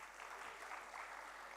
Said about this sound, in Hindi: तालियां बजाते रहो बच्चों